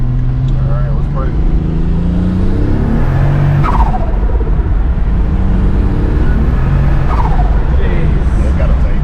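VR6 turbo wagon accelerating under boost at part throttle, engine note rising through the gears with shifts in between, loud and close from inside the car.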